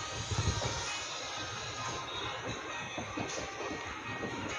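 A passenger train on the Shalimar to Puri route pulling into Puri station, a steady close rumble of railcars with faint rhythmic wheel noise and occasional squeals, no talking.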